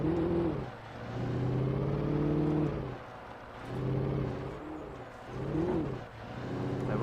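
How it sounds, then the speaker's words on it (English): A car engine in the video game Alan Wake hums and rises in repeated swells of revving, steady and fairly close, with no speech over it. "say I don't like how the cars sound"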